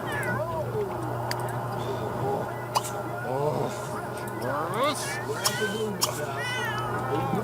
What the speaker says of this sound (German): Und da rennt Ratter wieder raus und Katzen schreien auch wieder.